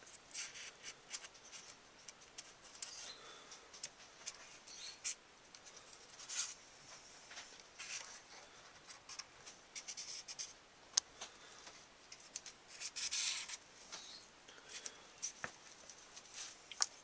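Pen sketching a rough pneumatic board layout on paper, with soft scratchy strokes and short taps in irregular bursts, faint and close, no voices.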